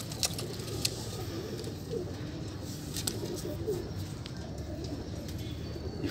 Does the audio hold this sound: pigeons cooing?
yes